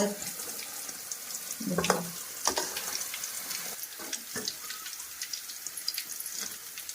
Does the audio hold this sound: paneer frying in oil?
yes